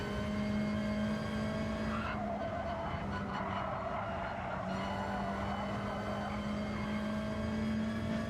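A Gr.4 race car in Gran Turismo 7 slides through the bus stop chicane at Watkins Glen, steady engine drone with a tire squeal rising over it for several seconds, loud and continuous with no talking.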